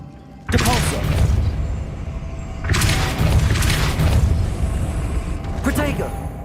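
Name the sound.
Depulso spell cast in video game Hogwarts Legacy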